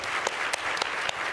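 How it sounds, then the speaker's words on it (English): A conference audience breaks into brief, dense applause, steady clapping with a few sharper claps, filling the room for just over a second. "Give them a round of applause,"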